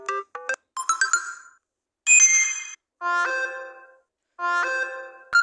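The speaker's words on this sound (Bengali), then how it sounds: "এখান থেকে আপনি অ্যালার্মটা সিলেক্ট করতে পারেন" A bright electronic phone alarm tone plays in short melodic bursts separated by brief silences, clear and close with no talking.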